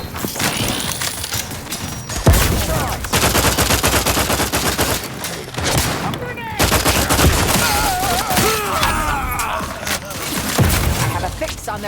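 Gunfire in the video game The Outer Worlds 2: a dense, loud run of rapid shots and bursts across the whole stretch, with sharp impacts, breaking and splintering sounds, and game voices and music mixed under the fire.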